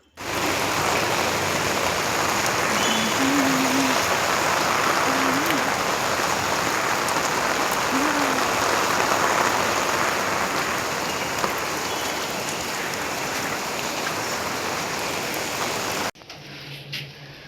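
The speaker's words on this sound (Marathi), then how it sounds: "पाऊस बघा." Heavy evening rain pouring steadily with water flowing, a dense continuous hiss that stays loud for about sixteen seconds before cutting off abruptly, with a few faint bird calls under it.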